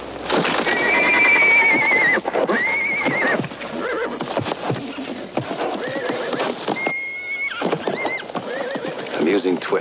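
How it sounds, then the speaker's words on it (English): A horse whinnies repeatedly and its hooves clatter in a tense western film scene, loud and close, with shuffling and movement around it. "Trample to death by the very horse you wanted so badly."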